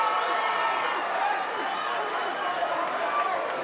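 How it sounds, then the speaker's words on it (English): Arena crowd at a boxing match roaring and cheering steadily after a big punch lands, a dense continuous wash of voices filling the whole moment, with commentators talking over it. "Crowd go wild in here."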